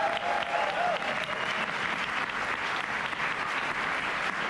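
Sustained audience applause at an All-Virginia Jazz Ensemble concert for a guest jazz trombonist, a steady dense clapping from a crowd filling the room, with no talk over it.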